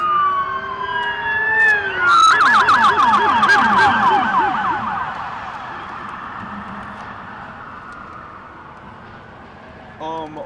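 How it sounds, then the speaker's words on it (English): Police car sirens wail and yelp during a police pursuit near LAX, loud and close at first, sweeping up and down in rapid cycles before fading into the distance with steady background noise. "I did not even expect a full-on police sirens."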